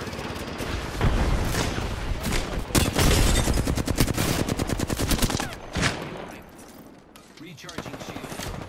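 Rapid automatic gunfire in a shooter video game, dense bursts of loud shots running for several seconds, thinning toward the end with a few scattered cracks, with game speech faintly mixed in.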